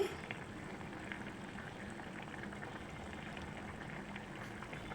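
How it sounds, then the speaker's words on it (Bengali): Spiced Bengali fish curry broth with river bele fish simmering in a pot, a soft, even bubbling hiss that continues unbroken and fairly faint throughout. "ঝোলটা ফুটছে"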